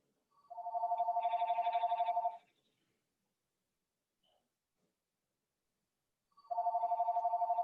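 A telephone rings in two bursts of rapid electronic trilling, the first about two seconds long and the next starting after a silent gap, clear and moderately quiet in a still room.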